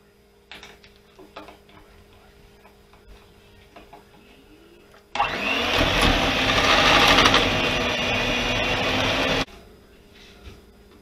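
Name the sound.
mixer beating butter and vanilla for frosting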